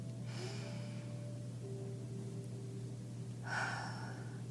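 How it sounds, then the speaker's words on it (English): Two breaths drawn in through the nose, short and soft, the second a little louder, over a steady low hum and a faint whistle-like tone in a quiet room. "take a deep breath in"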